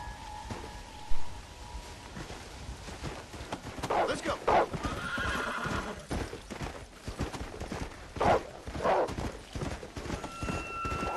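A horse ridden in Red Dead Redemption 2, with steady clip-clop hoofbeats and occasional neighs and snorts, while someone talks over the game sounds.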